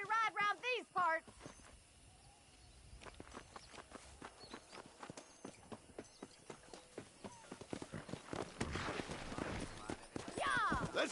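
Horses in Red Dead Redemption galloping in a race, hoofbeats clip-clopping in a quickening rhythm, faint at first and building louder toward the end, with voices talking over the start.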